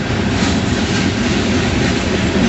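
A freight train with graffiti-covered cars rolls past close by, a loud, steady rumble with rattling wagons and faint clickety-clack of wheels on rails, no voices.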